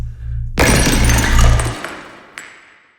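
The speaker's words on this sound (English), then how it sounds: "The gem shatters into thousands of pieces." A magical gem shatters into pieces in a single loud crash of breaking glass, with a tinkling scatter of shards that fades over a couple of seconds, plus one late clink.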